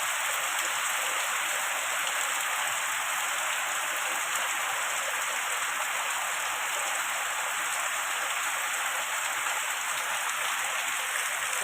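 Heavy, torrential rain pours down in Sylhet as a dense, unbroken roar of water, loud and even from start to finish, with no voices.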